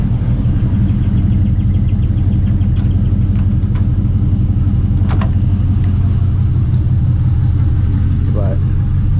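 A high-mileage 5.3 V8 in a truck idles with a loud, smooth, continuous low rumble, close by and unbroken, with faint clicks and clatter over the top.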